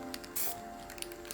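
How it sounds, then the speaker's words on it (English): Chaos Black spray paint priming a war dog model in a garage, short hissing bursts of aerosol spray, the loudest near the start, over a faint background tone with no voices. "I took the war dog into the garage and primed it with Chaos Black spray paint"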